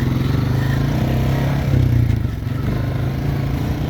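A manual ATV four-wheeler engine runs close by with a steady low throbbing idle, slight surge midway, loud and continuous with no talking.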